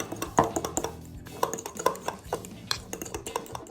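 Ketchup sauce stirred in a bowl: quick, light clinks and taps of a utensil against the sides, irregular and fairly soft, with a voice talking over them.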